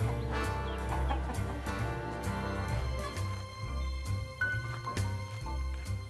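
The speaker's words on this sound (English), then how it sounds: "Little did I know that I would become just surrounded by chickens." Chickens on an Irish country farm clucking and murmuring near the microphone, with scattered short calls over a steady low rumble throughout.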